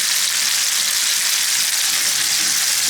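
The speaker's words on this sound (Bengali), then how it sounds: "তেল গরম হয়ে আসছে, এখন আমি দিয়ে দেবো টমেটো।" Tomatoes dusted with turmeric dropped into hot oil, a loud, dense, even sizzle filling the whole moment close up, with no voices.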